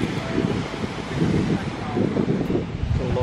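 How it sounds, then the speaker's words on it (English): Big Pacific ocean waves crash onto a California beach in continuous rolling surf under strong wind buffeting the microphone, loud and close throughout. "Some of the waves are quite big that come crashing in"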